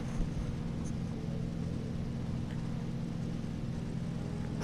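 A loud car engine in the Hot Wheels Universe Zero video game drones steadily throughout, a constant low rumble with little change in pitch or volume and no talking over it.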